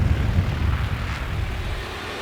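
Two Japanese Zero fighter planes roar through a World War II air battle over a base, a steady loud engine drone that fades slightly toward the end.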